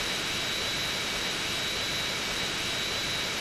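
Continuous jet engine thrust from a vehicle in GTA San Andreas Definitive Edition, a dense steady roar with a thin high whine sustained evenly for a few seconds.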